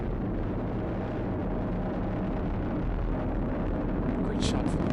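Continuous loud roar of a SpaceX rocket's first-stage engines during a Dragon capsule launch, a dense broadband rumble holding steady throughout with no speech.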